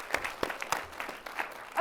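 Applause from an audience at a real estate event, scattered, uneven claps, fairly faint, with a voice speaking at the end.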